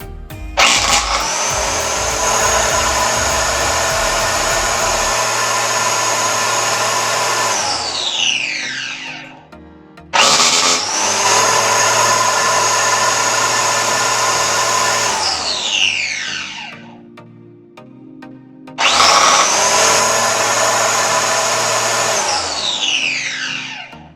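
A Black+Decker BESTE630 electric grass trimmer whirs up to a loud, steady high-pitched motor whine, cuts off, and restarts twice in three bursts, close to the microphone with no talking.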